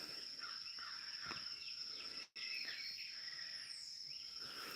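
Small birds chirp outdoors in a quiet rural setting, with scattered bird calls over a steady, high insect-like buzz and a brief dropout in the middle.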